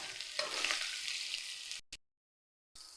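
Bitter gourd fries in oil with a steady, bright sizzle that runs for about two seconds, drops out briefly to silence, then comes back loud.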